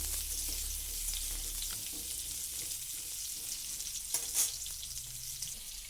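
Cut potatoes fry lightly in oil for a cauliflower and lentil dish, a soft, faint, steady sizzle with a low background hum and a brief clatter near the end.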